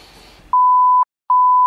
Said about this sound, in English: someone's vape set off the fire alarm